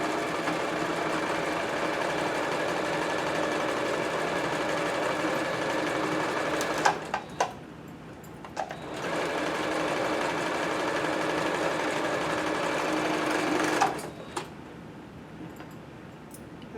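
Sewing machine stitching a mask seam with a 3/8 allowance: a long, loud, steady motor hum with fast needle rattle, a brief pause with clicks midway, then another long run before stopping.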